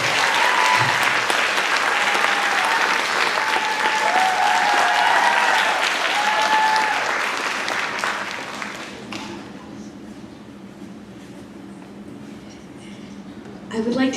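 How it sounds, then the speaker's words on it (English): Sustained audience applause at a Sai Chetana arangetram, a classical dance debut, loud and dense for about nine seconds before thinning to a quieter patter and a few lingering claps, with faint voices mixed in. "So can everyone please give her a round of applause?"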